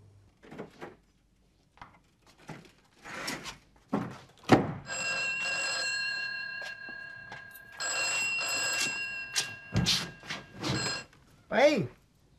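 An old landline telephone bell rings in repeated bursts in a 1980s Hong Kong sitcom home, sounding close and clear between thumps and Cantonese dialogue.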